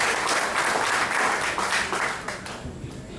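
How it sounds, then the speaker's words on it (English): An audience at a celebration-of-life gathering applauds the DJ, Mr. Cephas Adams: a burst of many hands clapping at once, full and lively at first, then tapering off within a few seconds. "put your hands together to give a warm applause to our DJ, Mr. Cephas Adams"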